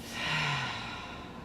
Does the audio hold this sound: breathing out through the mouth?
yes